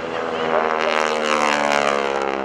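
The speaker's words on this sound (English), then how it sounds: "A radial engine has a bark to it, sometimes like thunder, sometimes you can keep growling bark." A radial-engine propeller aircraft at an air show roars close and loud in a steady growling drone, its pitch shifting slightly as it passes.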